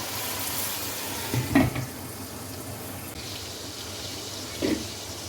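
A pan of tomatoes sizzles with a loud, steady hiss as water hits it, with a couple of brief clatters of stirring.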